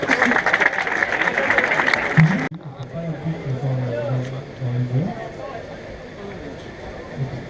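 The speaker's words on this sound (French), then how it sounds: "On peut les applaudir s'il vous plaît." Audience applause at a Decathlon Transrun 2017 trail race briefing, a dense clapping wash for about two and a half seconds that then cuts off as someone speaks over faint leftover crowd noise.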